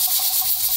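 Pressure canner regulator rocking on the stovetop while canning beef pot roast, giving off a steady loud hiss of escaping steam with soft pulses as each rock lets a puff out.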